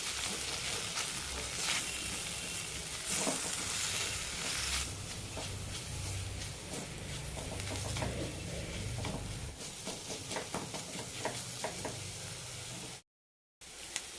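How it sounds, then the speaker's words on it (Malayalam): Spices for a fish mango curry sauté in a hot pan, with a steady, loud sizzling hiss and occasional stirring scrapes that fade near the end, with no voices. "മസാലകളുടെ പച്ചമണം പോകുന്നവരെ ഒന്ന് വഴറ്റിയെടുക്കാം."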